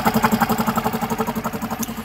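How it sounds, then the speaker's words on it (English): A small outboard engine, being run for cleaning after saltwater use, idles with a steady, rapid pulsing putter, close and fairly loud, holding an even rhythm throughout with no voices. "The engine is running."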